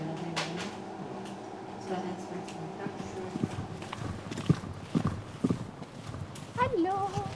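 Horse hooves clip-clop on a stable floor, a series of sharp knocks that grow more distinct in the second half, with background stable noise and a brief whinny-like sound near the end.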